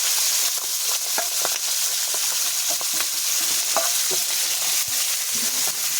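Chicken skin fries in oil with cumin seeds in a wok, a bright continuous sizzle broken by repeated scraping and clattering strokes of a stirring utensil, close and lively.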